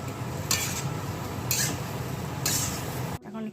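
Food stirred in a pan during home cooking for a Saraswati puja, with a steady sizzling bed and three scraping spoon strokes at regular intervals, close and moderately loud, ending abruptly.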